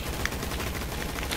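Roblox Gunfight Arena gunshots form a brief, steady wash of dense firing, with a few sharper cracks standing out in a continuous noisy mix.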